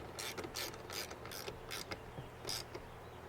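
A ratchet tightens a bolt on a rear seat release in a 2009+ Ford F-150. About seven quick, close ratcheting bursts come in an uneven rhythm, quiet and with no talk.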